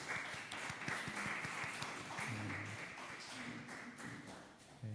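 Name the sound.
church congregation applause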